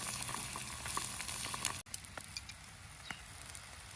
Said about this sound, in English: add the eggs. All right, get the eggs on there. Spread them around.